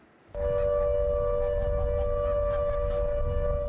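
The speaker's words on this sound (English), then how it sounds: "the flood sirens in the Billing Aquadrome Holiday Park were called into action for the very first time" A loud, steady flood warning siren at Billing Aquadrome Holiday Park, Northamptonshire, during Storm Henk starts abruptly after a brief quiet moment and holds a sustained wailing tone throughout.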